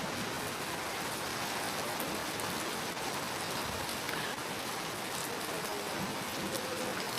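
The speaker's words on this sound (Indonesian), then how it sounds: "Hujan." Steady rain falling outdoors, a dense even hiss of drops on surfaces continuing without pause, no voices.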